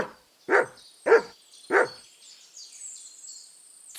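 Three loud, separate barks from Mutt, the dog in Kingdom Come: Deliverance II, spaced about half a second apart, then a quieter stretch of high, faint birdsong.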